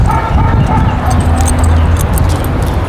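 A dog gives short barks mixed with whimpering yips at close range, over a steady background rumble.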